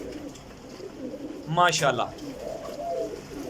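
A single large pigeon coos in a short burst, with a voice talking over and around it against steady background noise.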